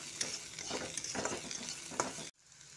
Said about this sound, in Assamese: আদা নহৰুখিনিৰ কেঁচা গোন্ধ নোহোৱা হোৱালৈকে এইখিনি আমি ভাজি থাকিম